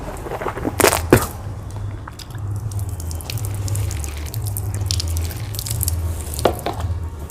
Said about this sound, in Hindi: तो आप कुल्ली एक बार और करें।